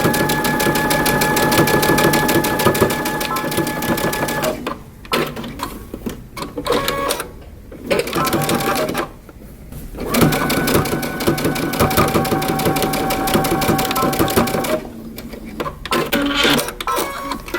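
A sewing machine stitches across a coat's shoulder seam with a 5/8-inch seam allowance, running in steady loud bursts with a few brief pauses between runs.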